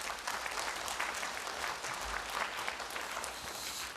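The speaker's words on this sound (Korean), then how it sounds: "큰 박수 부탁드리겠습니다." An audience applauds at a Buddhist seminar held at the National Assembly as a speaker is introduced, a dense and steady wash of clapping from many hands that lasts the whole stretch, moderately distant, with no talk over it.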